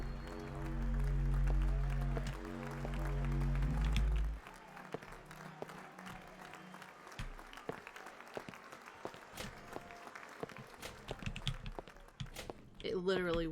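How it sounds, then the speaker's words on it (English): Game applause from Employee of the Month rings out loud and dense for the first four seconds, then breaks into scattered, quieter claps and taps that keep going under a talking voice. "It literally will not stop applauding me."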